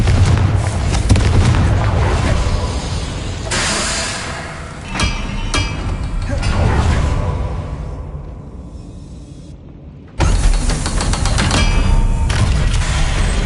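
A Confringo fire spell blasts in the Hogwarts Legacy video game on PS5: a series of loud booming explosions with roaring low rumble, one sharp burst cutting off into near silence before the noise returns.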